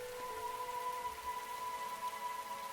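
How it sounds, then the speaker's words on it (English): Steady, even rain falling in a video game, a soft continuous hiss at moderate level with a faint tonal hum underneath and no speech. "I like the sound of rain."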